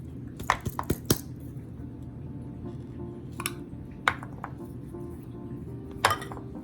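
Soft, wet squishing as a plantain is pressed into a bowl shape, with a few clinks of a utensil against a dish standing out over a low steady background hum.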